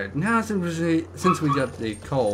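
Dogs bark and whimper somewhere behind someone talking over gameplay, their yips mixed into the speech rather than standing out.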